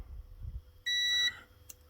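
A digital multimeter on continuity mode emits a single clear, high-pitched beep lasting about half a second during a fuel pump circuit test on a Honda TRX500 ATV, preceded by faint handling noise and followed by a brief click.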